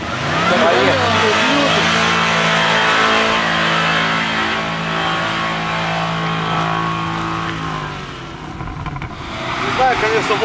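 Soviet Volga car engine straining as it climbs a steep off-road hill, a steady loud drone that holds its revs and then eases off near the end.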